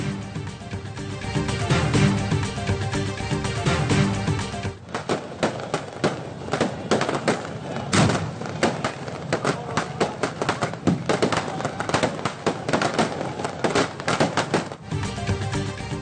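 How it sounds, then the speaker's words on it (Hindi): Fireworks at an Independence Day celebration at Three Swords, Clifton, Karachi: dense, rapid crackling bursts and booms, loud and continuous, with several sharp heavier blasts standing out. "कराची में क्लिफ्टन 3 तलवार पर जश्न आजादी की तकरीब में शानदार आतिशबाजी।"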